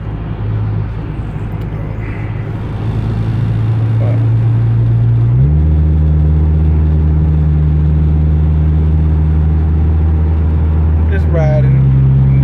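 Car cruising along a Chicago expressway, a loud steady engine and road drone that rises in pitch partway through and holds, with a brief whine near the end.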